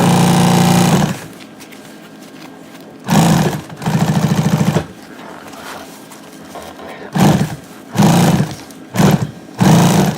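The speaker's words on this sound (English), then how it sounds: "I'm going to just begin to stitch up this edge" A sewing machine stitches an edge seam with about a 1/8 inch allowance on a hauler bag project, running in loud buzzing bursts separated by short pauses.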